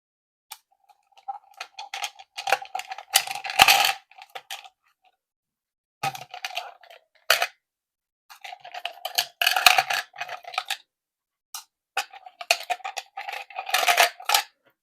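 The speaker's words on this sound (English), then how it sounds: "I'm going to roll 6 dice today" Six dice rolled several times during a coloring savings challenge, each roll a burst of rattling, clattering clicks lasting a second or two, separated by short silences, close and fairly loud with no talk.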